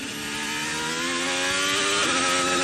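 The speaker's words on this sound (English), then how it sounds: "Sound you can hear is Carlos Sainz flinging through the swimming pool chicane" Formula 1 car at the 2022 Monaco Grand Prix rushing through the swimming pool chicane, a loud, steady high-revving engine whine with a slight rise in pitch, heard alone without talk.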